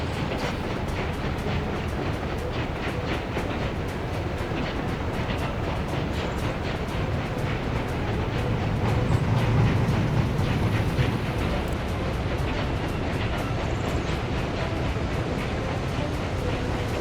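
Trains rumble steadily along rails in the Workers and Resources video game, with a continuous heavy roar and a rapid clickety-clack of wheels running throughout.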